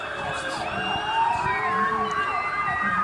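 An ambulance siren wails steadily in blocked, gridlocked traffic, over a dense wash of traffic noise, with several overlapping siren tones and engine rumble filling the street.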